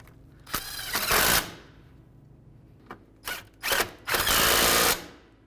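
Power tool snugging radiator bolts on a 2015-2019 Hyundai Sonata, heard in several close whirring bursts of varying length, the longest near the end.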